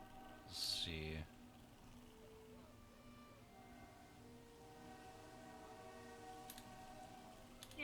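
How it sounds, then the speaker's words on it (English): A train horn sounds faintly from a distance in long, sustained tones, with a brief sharp burst of noise near the start. "Oh, another choo-choo. another train."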